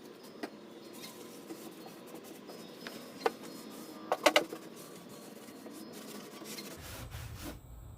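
A cloth rubs Old English polish onto a wooden bar in soft, faint, continuous scuffing strokes, with a few sharper brief rasps midway and a low rumble near the end, and no voices.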